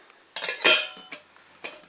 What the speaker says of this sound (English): It's got a frying pan, a plate to eat with, a cup to drink water,